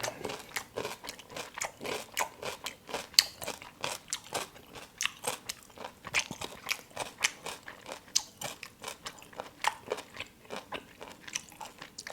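Close, crisp crunching and biting repeat steadily as grilled pork intestine is chewed, eaten with a spicy dipping sauce and crunchy cucumber; no talking.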